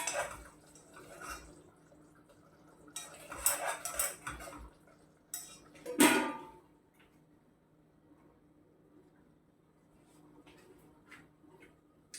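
A metal spoon clinking against a cooking pot while onions cook for a tagliatelle dish with cream and parsley, a few scattered scrapes and knocks with one sharp clank near the middle, then quiet with faint ticks.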